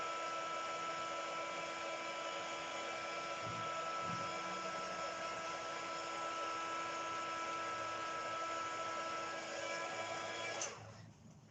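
A hair dryer runs steadily, drying a wet mixed media card, a continuous loud whir with a strong hum that holds nearly the whole time before cutting off near the end.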